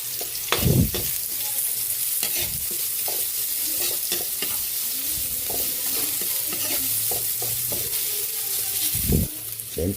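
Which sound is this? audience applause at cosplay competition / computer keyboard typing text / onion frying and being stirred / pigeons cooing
onion frying and being stirred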